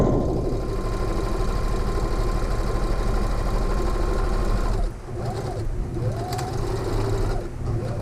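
A sewing machine runs practice stitches on a 7-inch square of muslin: a steady, close mechanical whir that drops out briefly around the midpoint and then resumes with a few short stitching bursts.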